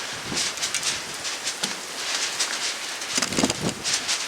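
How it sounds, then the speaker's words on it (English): Wind gusting outdoors on a blustery day, with a broad, breathy rush that swells in a few stronger bursts, alongside a soft, steady rustle of leaves. "Really windy."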